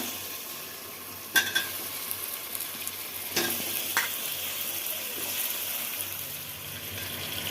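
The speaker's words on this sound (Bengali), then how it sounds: "এবার দিয়ে দিচ্ছি ধুয়ে রাখা চিকেনগুলো।" Washed chicken pieces dropped into a pan of fried onion and tomato for masala chicken, with a sharp burst of sizzling, then continuous close frying noise broken by spatula scrapes and stirs.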